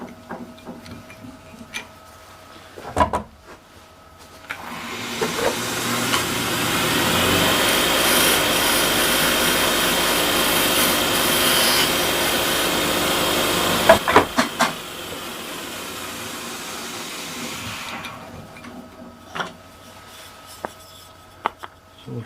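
A wood lathe turns a wooden napkin holder as a tool takes finishing cuts, a close, steady scraping hiss that swells for about ten seconds between quieter stretches of spinning, handling and small knocks.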